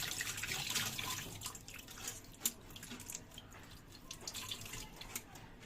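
Running water from a tap splashes and trickles faintly as minced meat is rinsed in a sink, with small drips and clatters.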